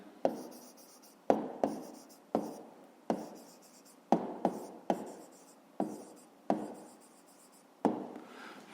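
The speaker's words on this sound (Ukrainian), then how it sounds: "зараз записуємо відповідь, пишемо відповідь" A pen writes a maths answer by hand on paper, giving about a dozen short, close scratchy strokes in an uneven rhythm, with no talking.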